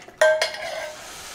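A spoon clinks against a bowl while sugar is stirred into jello and boiling water for punch, two sharp close taps followed by a brief ringing scrape.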